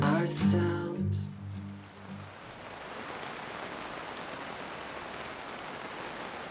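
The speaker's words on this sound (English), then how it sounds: "There's been a lot of rain today." Steady rain falls outdoors around a campervan parking spot on Dartmoor, a dense even hiss that follows some brief music.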